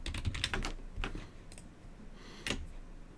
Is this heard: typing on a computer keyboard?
yes